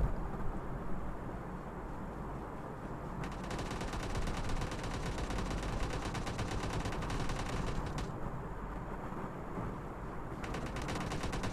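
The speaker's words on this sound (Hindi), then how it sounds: "यहाँ पे शॉट एक्सचेंज होते हुए जोकर बीस्ट वहाँ पे प्रोन हो चुके हैं।" Gunfire exchange in a battle royale video game, with rapid automatic bursts crackling continuously over a dense, noisy game soundscape, distant-sounding and steady throughout.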